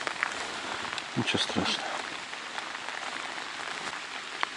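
Steady patter of light rain falling on a surface during bottom-rod fishing for crucian carp, a soft continuous hiss, with someone briefly speaking close by.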